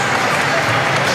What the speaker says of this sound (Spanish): se aplaude a Ríos, que aguantó estoico, que ha sido castigado